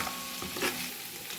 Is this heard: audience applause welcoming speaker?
no